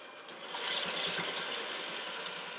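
An electric mixer whips cream, giving a steady close whirring drone that builds slightly and then holds evenly throughout.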